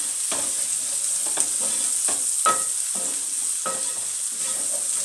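Ginger and garlic paste fries with onions in a pot for tripe stew, giving a constant bright sizzle broken by repeated clanks and scrapes of a stirring spoon.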